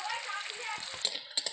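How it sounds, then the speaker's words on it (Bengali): Onions frying until reddish-brown in a pan for a chicken and cauliflower curry, a steady close sizzling hiss lasting under two seconds with a few faint clicks near the end. "ভালো করে লাল লাল করে পেঁয়াজগুলো ভেজে নেব।"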